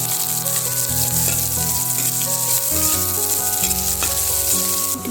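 Cumin, crushed garlic and onion sizzle and fry steadily in hot oil while being stirred, a close, continuous crackle with occasional scraping from the spoon.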